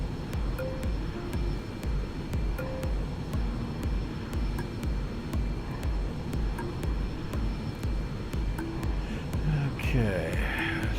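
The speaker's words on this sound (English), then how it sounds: "let's see about getting this airplane started" Dash Q400 turboprop engines in a flight simulator spool up into a continuous low, pulsing drone, with sharp cockpit clicks scattered over the top and a brief rising whine near the end.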